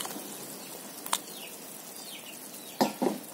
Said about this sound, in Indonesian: Nah ini sudah udah mendidih dan juga pentolnya aku masukin